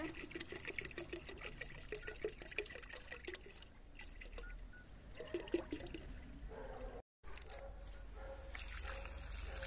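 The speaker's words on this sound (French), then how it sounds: "Le pipi de mon papa, on va le verser." Homemade liquid fertilizer made from urine is poured out over flower cuttings, giving a quiet, uneven trickling and splashing that comes in bursts, cuts out briefly, then resumes.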